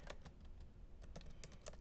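Someone types on a computer keyboard in a fast, uneven run of soft key clicks, close and quiet, with no voice over it.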